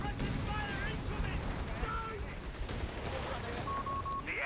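Sustained machine gun fire and battle noise from the World War II strategy game Company of Heroes 3, dense continuous bursts under a layer of game effects, loud and unbroken throughout.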